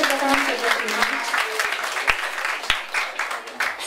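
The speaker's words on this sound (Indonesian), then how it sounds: "kita beri tepuk tangan untuk Mbak Bibi" Audience at a high school student council election event in Giriwoyo applauding a student speaker, a dense burst of clapping with some sharp individual claps, sustained for several seconds.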